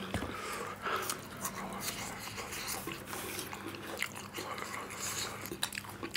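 Five packets of spicy 2PM noodles with mutton liver are eaten quickly, with close, wet chewing and biting sounds, slurps and occasional crunches running continuously.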